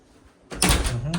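A hotel room door in Milan swings open, starting as a quiet click and then a loud, close, noisy creak and rattle that lasts about a second, with a second small knock near the end.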